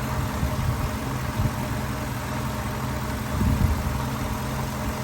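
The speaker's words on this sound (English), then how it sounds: "There's the very stock engine." A stock 1997 Ford Mustang GT with its 4.6 V8 idles steadily up close under an open hood, a low, even rumble with a couple of slight swells in loudness and no talking.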